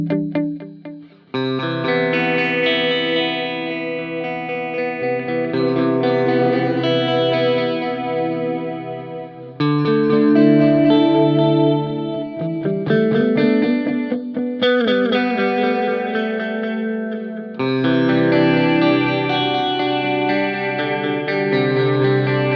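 Distorted electric guitar plays sustained chords and phrases drenched in repeating stereo echoes from a Boss SDE-3000D dual digital delay, one delay per speaker, spreading and overlapping, loud and continuous, with no voices.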